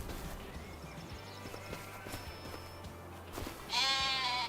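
Sheep bleat in a farming video game, a loud, close bleat breaking in near the end after a stretch of quieter farm ambience with faint clopping.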